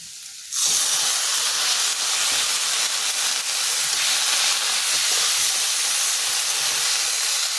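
Mustard greens dropped into a hot pan with salt burst into loud, steady sizzling that starts abruptly and holds a continuous bright hiss, close and with no talk over it.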